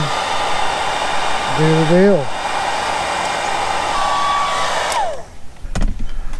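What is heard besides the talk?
shrink wrap heat gun blowing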